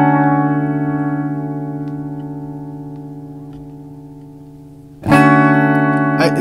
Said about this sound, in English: So it's like a regular tape echo,